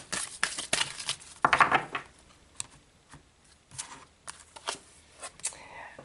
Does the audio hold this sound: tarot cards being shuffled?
yes